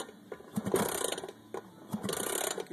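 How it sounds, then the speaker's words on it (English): A motorcycle kickstarter mechanism is kicked twice, each stroke a quick burst of ratcheting, clicking gear noise, close and fairly loud, with a brief lull between the two kicks. "Kickstarter works good."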